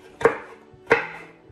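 Two crisp knife chops strike a cutting board as a bell pepper is sliced very finely, each a sharp close thud with a brief ringing tail, evenly spaced and with no talking.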